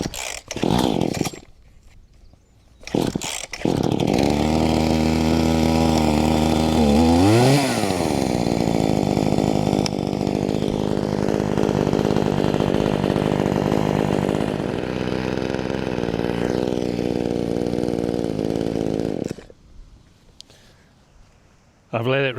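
Chainsaw, carburettor freshly adjusted, runs cold-started for about sixteen seconds: a loud buzzing blip, then a steady, burbling idle close by, before cutting out, with a few knocks before and after.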